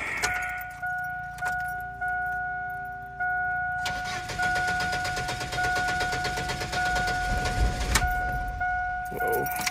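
A car engine cranks in rhythmic pulses for several seconds, then catches and runs roughly after a radiator flush, with a faulty fuel pressure regulator making it struggle to start; a steady electronic tone sounds throughout.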